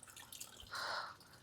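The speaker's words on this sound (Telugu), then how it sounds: "దీని నుంచి నీళ్ళు ఏమో పడుతున్నాయి" Rainwater drips from the ceiling into an indoor room during heavy rain in Saudi Arabia, faint watery drips over a soft background hiss, with no voices.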